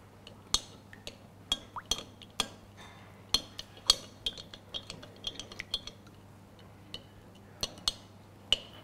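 Jackfruit vegan tuna salad being mixed in a bowl, with sharp, scattered clinks and taps of a utensil against the bowl repeating irregularly over a quiet, low hum, with no talking.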